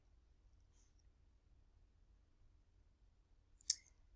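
A single sharp computer mouse click in a quiet room, near and brief, confirming an OK button in the Lazarus programming environment.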